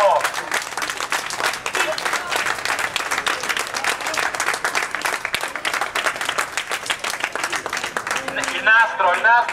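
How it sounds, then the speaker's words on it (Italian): Loud, dense applause from a crowd at a staged seizure of assets at the Banca d'Italia, steady clapping that fills the space for several seconds, with a bit of voice and music near the end. "Un applauso!"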